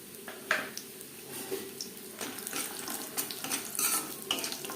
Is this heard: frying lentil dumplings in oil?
yes